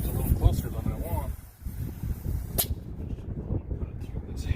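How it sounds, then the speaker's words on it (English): Gusty outdoor wind buffets the microphone with a steady low rumble and rushing noise on a cold day during outdoor painting, with a muffled voice partly underneath. "Kind of windy out here."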